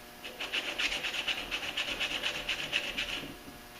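A piece of metal from a Nippondenso starter repair is rubbed with 320 grit sandpaper in fast, even back-and-forth strokes, a close raspy scratching that repeats steadily throughout.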